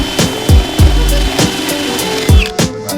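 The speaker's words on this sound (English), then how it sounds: "you want to drill it flat to where this part does not go below this surface" A power drill bores into wood while building cabinet doors for a bus conversion, sounding in short repeated bursts with brief gaps between them, loud and close.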